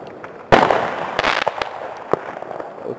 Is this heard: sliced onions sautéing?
no